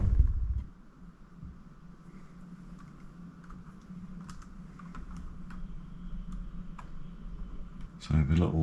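Cursor-key keycaps being fitted onto an IBM ThinkPad 600E laptop keyboard: soft scattered plastic clicks and small taps, fairly close and quiet, with louder handling noise at the start and end.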